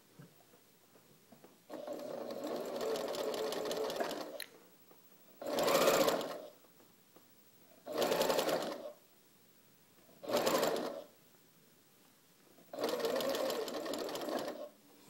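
A sewing machine stitches a curved fabric seam in five separate bursts, some long and steady, others short, each stopping while the fabric is pivoted and guided by hand. The machine is close and clear, with no talk over it.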